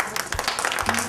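Students applauding a professor in a classroom: a brief burst of scattered hand clapping from a group, uneven and fairly close, lasting about a second.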